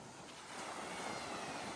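Ocean waves wash ashore at a beach, a steady broadband rush with no speech, quieter at first and then swelling into a fuller continuous roar.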